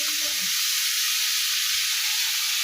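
Food frying during home cooking in a hot kitchen gives a steady, close bright sizzle and hiss that runs throughout, with faint low clatters underneath and no talking.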